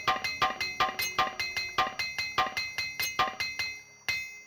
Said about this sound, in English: we're gonna go ahead and use the armor hammer